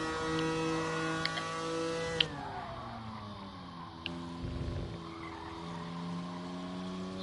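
Race car tires skidding in Gran Turismo Sport, an engine drone that drops in pitch then rises again, with tire squeal, short clicks and a brief low thump, no talk.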